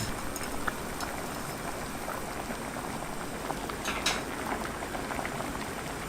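Water boils for cooking pasta for a carbonara, a steady bubbling roil heard close up with a few brighter splashes and no talk.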